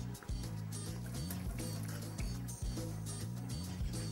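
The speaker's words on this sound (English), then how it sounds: "And to this, I added about a liter of water." Water is poured into a cooking pot holding a rinsed turkey neck, giving a steady splashing fill for about four seconds, close and fairly loud, with no talking.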